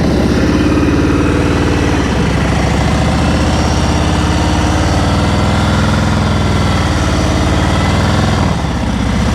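Motorcycle engine running steadily during a riding lesson, a loud close mid-pitched hum that shifts slightly in pitch as the rider works the throttle and near the end, with no talking over it.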